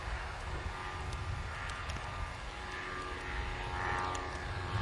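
A small propeller plane drones steadily in the distance, a continuous buzzing hum with wind noise and no voices.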